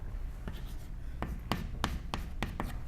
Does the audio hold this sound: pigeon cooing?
no